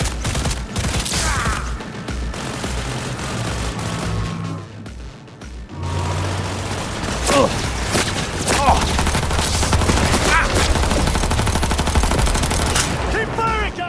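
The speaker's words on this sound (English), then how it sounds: "Firing at close range!" Close-range gunfire in Cyberpunk 2077 cracks in rapid, dense volleys, loud and near, with a short lull midway before sustained shooting resumes amid clattering mechanical noise and voices.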